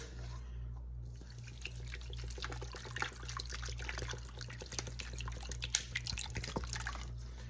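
Water pours steadily, with small splashes and gurgles building over several seconds against a low background hum.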